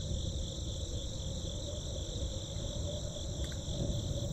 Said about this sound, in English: There's a chirping sound from over here. Crickets, maybe?